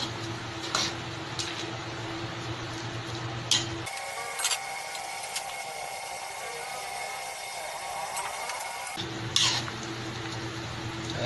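Leeks stirred into a pot of bulanglang vegetable stew: soft scraping and occasional light clinks of a utensil against the pot over a low background hum, quiet and close, with no talking.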